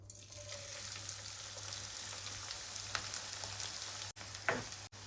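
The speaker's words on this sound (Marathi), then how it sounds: "मोठ्या गॅसवर आपण हा कांदा व्यवस्थित असा भाजून घेऊ" Onion frying in hot oil in a kadhai over a high flame, a steady close sizzle and crackle with a few brief stirring scrapes near the end, no voices.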